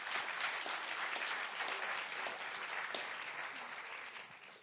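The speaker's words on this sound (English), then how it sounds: "please join me in giving President Ursula von der Leyen and Nomzamo Mbatha a huge round of applause" Conference attendees give a steady round of applause for Ursula von der Leyen and Nomzamo Mbatha at a renewable energy finance event in Sevilla, with dense, even clapping that tapers off toward the end.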